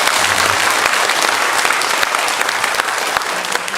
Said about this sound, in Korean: 우리 박수로 우리 한번 우리 하나님께 한번